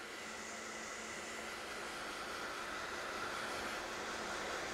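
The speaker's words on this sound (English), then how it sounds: "I've got here a heat gun. Now I'm going to use that in between coats" A heat gun blows steadily to force-dry freshly airbrushed paint on a model body between coats, a constant close-up whooshing roar with no breaks and no talk.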